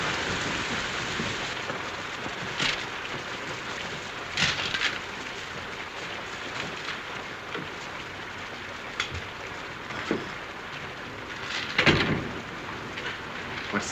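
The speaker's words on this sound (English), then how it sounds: "It's this rain, I guess." Steady rain pours down in a 1932 setting, a dense even hiss with scattered louder drips and splashes on a surface throughout.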